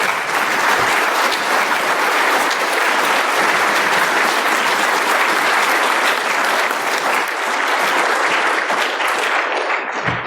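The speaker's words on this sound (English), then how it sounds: "Big round of applause again, please." A conference audience claps throughout after Holly Grace Williams' keynote talk, a dense, steady applause lasting about ten seconds with no speech over it.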